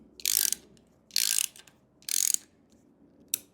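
Ratchet clicking in three quick bursts as it tightens a badly rusted bolt on a Fox Body Mustang 5.0, close and crisp, with a short final click and no talk.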